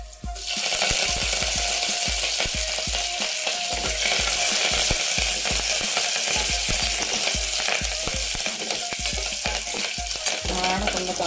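Curry leaves crackle and sizzle loudly in hot tempering oil for gongura dal, a dense steady frying hiss with rapid popping, close and continuous with no voices.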